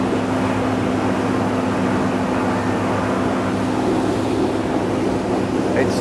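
Axopar 25 Cross Bow motorboat, a 25-foot boat with a V8 engine, speeds up across open water, its steady loud engine drone mixed with hull and wind noise throughout, no voices.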